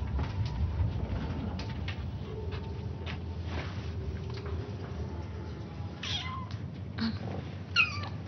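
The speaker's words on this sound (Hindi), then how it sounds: "बिल्ली के बच्चे" Kittens hidden indoors mew in a few faint, thin cries over a steady low background hum, with the louder calls near the end.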